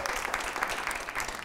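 Studio audience applause greeting guest Dato Khujadze on a Georgian night talk show, a steady dense wash of clapping sustained throughout at moderate level.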